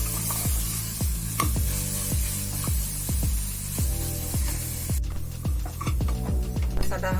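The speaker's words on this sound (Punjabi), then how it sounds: "ਇਹਨੂੰ ਨਾਲ ਚੰਗੀ ਤਰ੍ਹਾਂ ਆਪਾਂ ਭੁੰਨ ਲਾਂਗੇ ਤਾਂ ਜੋ ਇਹਦਾ ਕੱਚਾਪਨ ਜਿਹੜਾ ਰਵੇ ਨਾ।" Garlic roasts in a pan for a Punjabi-style rajma curry, a steady sizzle broken by a regular series of sharp scraping stirs, close and clear, with no voices.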